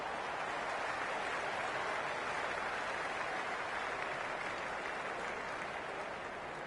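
A crowd in the cricket video game Cricket 26 cheers and applauds steadily, a dense, continuous wash of distant clapping and roaring with no break.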